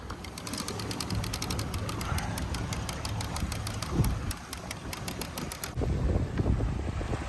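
A sailboat's small outboard motor drones steadily at idle, with wind buffeting the microphone and a faint bird calling in the background.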